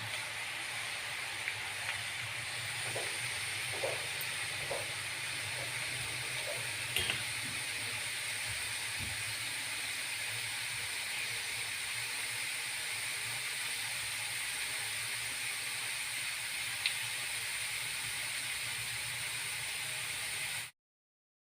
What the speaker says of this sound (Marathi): हा कीस कडक तेलामध्येच तळायचा आहे